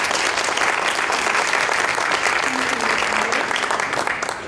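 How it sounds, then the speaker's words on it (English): A live audience bursts into sustained applause, dense steady clapping from many hands held at full strength for several seconds before easing off slightly at the end. "give her a big round of applause"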